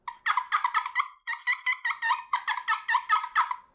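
An Ocop turkey hunting call gives a quick series of about fifteen sharp, raspy yelps in an even rhythm, close and fairly loud with nothing else behind it.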